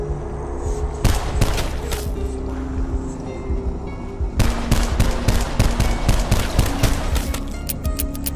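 Rapid close gunfire in Call of Duty Zombies, on the Blood of the Dead map, sharp repeated shots in quick bursts over a steady droning game background.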